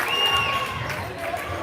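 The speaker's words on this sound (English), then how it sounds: "as you can tell by this crowd reaction" Crowd at a women's high school basketball league final roars and cheers after a three-pointer, a dense sustained wash of voices with scattered whistles, heard under a commentator's talk.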